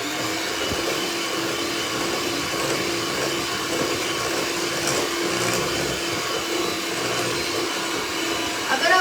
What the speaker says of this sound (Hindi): अब मैं इसे अच्छे से एक बारी ब्लेंड करूँगी।